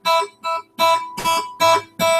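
Classical guitar notes plucked and deliberately cut short rather than left to ring, six separate muted bursts with clear gaps between them, close and alone.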